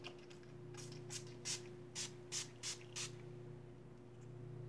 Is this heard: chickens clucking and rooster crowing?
no